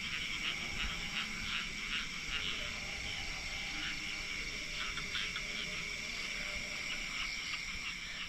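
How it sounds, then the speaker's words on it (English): Evening wildlife outside in Ubud, Bali: a dense, steady chorus of chirring insects and croaking frogs, with a few bird calls mixed in, continuous and moderately distant with no talking. "everything outside has just come alive with so many different bugs and birds"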